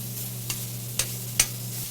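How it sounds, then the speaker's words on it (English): Zucchini cooking on a flat-top griddle, a low steady sizzle under a constant hum, broken by three sharp scraping taps of a spatula spaced about half a second apart, near and clear. "The zucchini I'm just going to cook until it is slightly tender."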